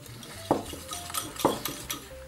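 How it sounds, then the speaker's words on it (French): Tartar sauce being mixed in a bowl, two sharp utensil clinks against the dish among softer scraping stirs, quiet and close. "on va mélanger de nouveau."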